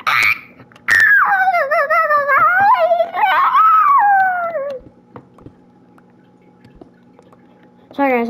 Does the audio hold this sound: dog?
yes